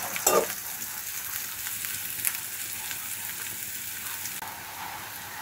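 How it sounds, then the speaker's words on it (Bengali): Chopped onion and green chilies fry in hot oil in a pan, with a steady close sizzle and occasional scraping stirs, and a brief clatter near the start. "দেব একটু পেঁয়াজ কুচি, দিয়ে দেব 2 টুকরা কাঁচামরিচ, একটু নাড়াচাড়া করে একটু লাল লাল করে নেব।"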